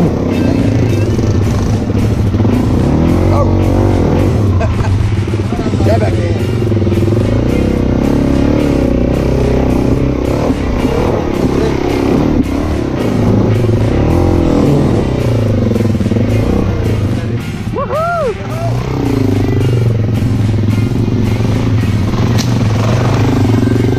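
Heavy adventure motorcycles ride a slippery dirt trail in Cape York, with a loud, close engine drone and rumble that continues the whole time, mixed with clattering and brief revs.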